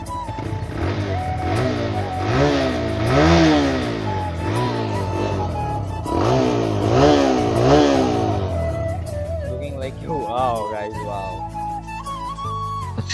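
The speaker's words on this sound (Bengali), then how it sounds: "এবার আপনাদের এক্সস্ট সাউন্ড শোনাই" A TVS Raider motorcycle in neutral is revved repeatedly, its exhaust rising and falling in several loud surges over a steady idle, with a few quicker blips at the end.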